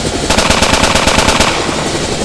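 A helicopter's machine gun in the GameGuru Max game sprays rapid automatic fire at a monument, a loud, dense burst of steady shots lasting over a second, with no speech.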